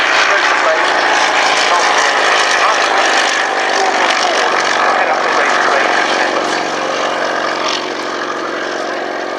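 A Bristol Sycamore helicopter flying at an RAF Cosford airshow produces a loud, continuous broadband engine and rotor roar that stays close and even throughout, easing slightly toward the end, with no clear speech.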